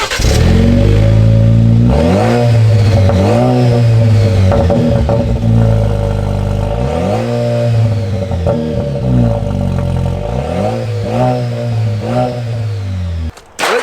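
Jeep Wrangler 2.0 engine with a large new replacement exhaust, loud and close, revved repeatedly in several sharp rising and falling bursts over a steady throaty idle, then cut off abruptly at the end.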